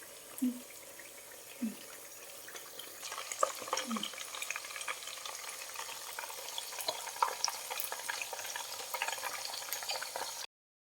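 Sun-dried pork fries in oil with a steady, soft crackling sizzle that runs on for several seconds at moderate distance, with a few faint knocks near the start, then cuts off abruptly.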